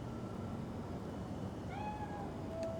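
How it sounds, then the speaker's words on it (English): A cat in the video game Cyberpunk 2077 lets out one drawn-out meow over a steady low ambient hum, fairly quiet and alone. "Chill, just a cat."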